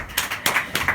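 Audience applause at a live event, a short burst of several rhythmic claps rising and falling, fairly near and alone without talk.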